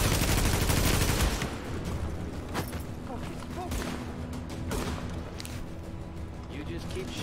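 Gunfire in the video game Tom Clancy's The Division, a loud burst of shots at the start followed by quieter scattered shots and game sounds, with a voice talking over it.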